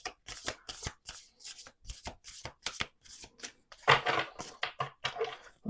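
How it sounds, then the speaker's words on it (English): An oracle card deck is shuffled by hand in quick, crisp riffles and bursts, close and fairly quiet, with short pauses between flurries. "We're going to do 2 more shuffles."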